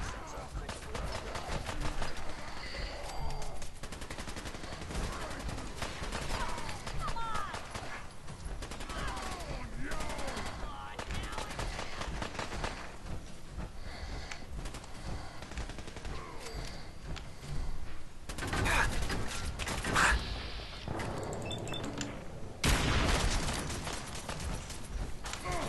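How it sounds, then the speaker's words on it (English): Gunfire in the Fallout 4 video game comes as repeated bursts and volleys of shots throughout, loud and dense, with mechanical clanks mixed in and a person talking over parts of it. "Who's shooting at me?"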